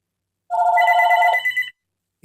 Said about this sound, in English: It still rings.